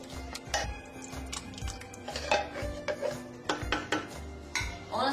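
Italian diced tomatoes tipped from a can into a spaghetti sauce pot, with scattered metallic clinks, scrapes and taps of a spoon against the pot, fairly quiet and close, with no talking.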